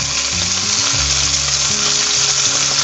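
Chunks of beef searing in a hot pan for an oven-baked stew give off a loud, steady, close sizzle that holds unbroken throughout, with no voices.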